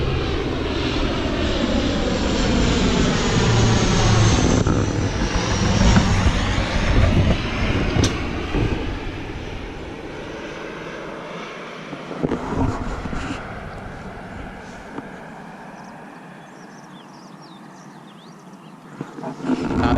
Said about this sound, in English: There's loads of small planes that fly in, like loads of small planes. Jets.